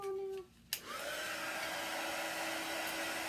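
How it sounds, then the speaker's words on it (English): A heat tool like a very hot hair dryer dries paste on a design transfer, starting with a click and then blowing as a steady, loud whooshing roar that fills the rest of the clip. "And this is a heat tool. It's kind of like a very, very hot hair dryer."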